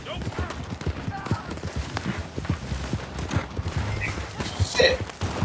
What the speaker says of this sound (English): Get on the fucking horse!